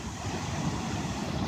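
Ocean surf washing onto the shore with steady wind noise on the microphone, a continuous broad rushing roar that stays even and fairly close, with no talking.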